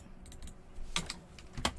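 Keys clacking on a computer keyboard in short uneven bursts of typing, close by and fairly quiet, with no talking.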